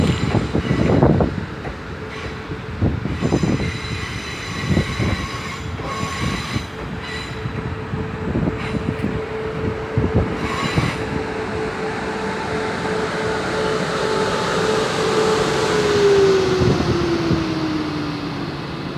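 A Class 450 electric multiple unit passes through Eastleigh station, a steady close rumble with wheel squeal and rising whine that swells toward the end, with rhythmic wheel clatter over rail joints.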